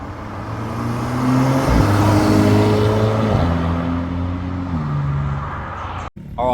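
Car engine under boost, a loud, close exhaust drone with shifting gear tones that rise and settle over several seconds, ending with a brief cutoff.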